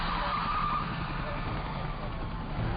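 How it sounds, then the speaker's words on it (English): A car spins out and slides backward during a high-speed police chase, its tires skidding in a steady, loud roar of engine and road noise from start to finish. "We spun out, now heading backwards."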